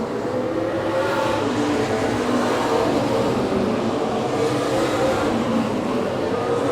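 Race cars roar side by side at Madera Speedway, their engines forming a continuous loud, dense rumble with no break.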